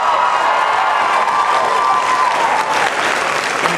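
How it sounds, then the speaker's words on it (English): A university rally crowd on the WWU campus breaks into steady, dense applause that fills the room and holds at an even level for several seconds, with a few scattered shouts within the clapping. "Can you give another round of applause?"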